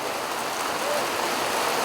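Steady rain falls during an outdoor street-naming ceremony in Bandung, held while a moment of silence is observed: a continuous, even, broadband hiss of rain without any distinct individual drops standing out.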